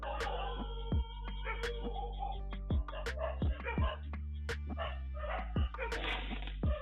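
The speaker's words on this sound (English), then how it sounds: "In a quiet village at night, dogs start barking wildly." Several dogs bark sharply and repeatedly in a quiet village at night, their loud irregular yelps and whimpers punctuating a steady low background hum.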